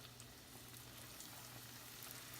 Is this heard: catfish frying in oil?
yes